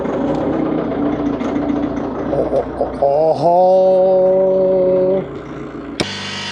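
A Bobcat T66 track loader engine turns over and catches on a cold winter morning, loud and close, surging into a rough, straining hum before it settles; someone speaks briefly.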